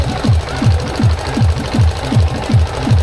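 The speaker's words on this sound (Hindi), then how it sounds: "जनरेटर बगल में चल रहा है" A generator runs close by at a Tharu wedding, giving a loud, steady rhythmic chugging with regular low thumps about three times a second and no talk over it.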